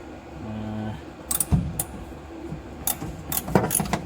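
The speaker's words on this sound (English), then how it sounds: "we grab ourselves an 8mm socket and just start cracking these bolts loose" An 8mm socket wrench cracks bolts loose on a Kia/Hyundai Sonata, giving sharp, irregular ratcheting clicks and knocks close by after a brief low hum.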